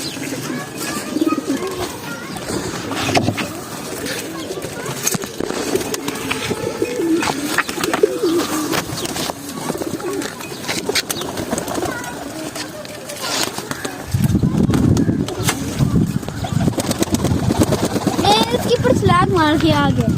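Pigeons coo softly and repeatedly while feeding in hot weather, close by, with someone talking over them for most of the stretch and the cooing growing fuller toward the end.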